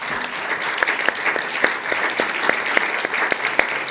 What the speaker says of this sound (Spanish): Pido un aplauso para el gran Leopoldo López, por favor.